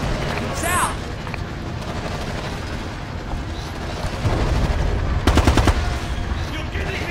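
Gunfire in the tactical shooter Ghost Recon Advanced Warfighter 2, with bursts of automatic fire and heavy low booms amid constant battle rumble, a sharp rapid volley standing out near the end while voices speak over it.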